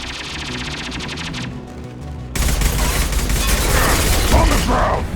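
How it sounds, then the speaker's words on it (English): Gunfire from the video game Mass Effect 2 fills the scene: rapid automatic bursts, then a denser, louder fusillade with explosive thumps, close and continuous, with voices faintly mixed in. "Taking heavy fire!"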